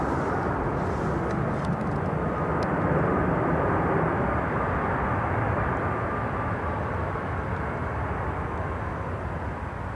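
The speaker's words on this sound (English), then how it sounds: "Very small plane." A small propeller plane drones steadily at Seattle-Tacoma International Airport, a broad continuous engine roar heard from a distance over outdoor ambience, with no talk.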